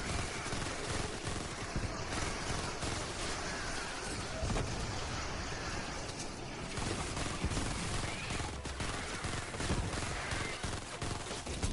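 Sustained automatic gunfire in Fortnite Save the World, a steady stream of rapid shots that runs without a break under a busy, noisy game mix at moderate loudness.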